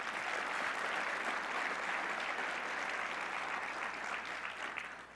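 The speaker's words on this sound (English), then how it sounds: "Let's give yourselves a big round of applause." A large audience claps for several seconds at the Port of Long Beach State of the Port gathering, a full, even roar of hands that tapers slightly toward the end.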